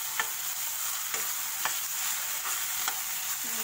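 Bread frying with Schezwan sauce and red chili sauce in a pan, a steady soft sizzle broken by a few sharp stirring scrapes at regular intervals, no talk.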